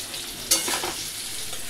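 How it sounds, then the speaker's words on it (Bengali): Potatoes fry in a pan with a soft, steady sizzle, a brief clatter as they are stirred, and no voices. "আর এখানে এই যে আলু বসিয়ে দিয়েছি, একটু ভাজা হোক।"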